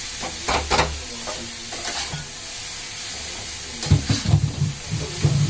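Boiled chowmein noodles sizzle in a hot pan while being tossed and stirred, a steady frying hiss punctuated by irregular scraping clanks of the utensil against the pan.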